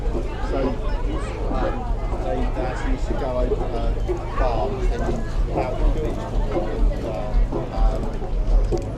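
A Fowler steam traction engine at a transport festival gives a steady low rumble with a rhythmic beat echoing off buildings outdoors, while a crowd chatters and murmurs throughout.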